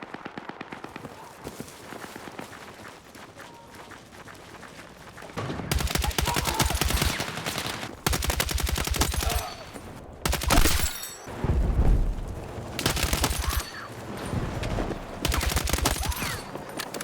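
Automatic gunfire on a large multiplayer map in Battlefield 6: long, loud bursts of rapid shots that start and stop repeatedly, sometimes with heavy booming impacts, over a quieter stretch of ambient noise and a voice talking.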